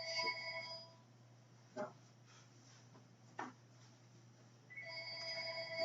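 A telephone ringtone from an unknown caller sounds as a repeating electronic ring at the start and again near the end, quiet and nearby, with soft thumps and a voice between the rings.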